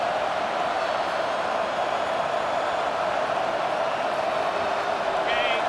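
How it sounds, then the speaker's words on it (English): Stadium crowd noise in a college football video game, a dense, steady roar of fans filling the space throughout, loud and continuous with no break. "It's early, but this crowd is fired up. Listen to this noise here."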